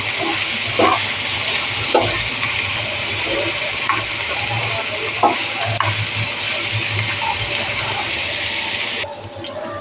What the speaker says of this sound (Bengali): দেখো আমার ডালটা একটু ভাজা ভাজা হয়ে গেছে, পেঁয়াজটাও ভাজা ভাজা হয়েছে